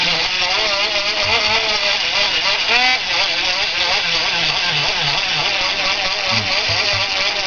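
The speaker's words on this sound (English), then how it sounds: "got me this cordless Black & Decker Dremel, and man, I love that thing." A cordless Black & Decker rotary tool whines at a steady high pitch, close and loud, running continuously without a break.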